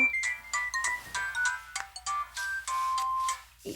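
A telephone rings in a Korean TV sitcom scene, playing a bright electronic melody of short tones in repeated phrases, loud and close.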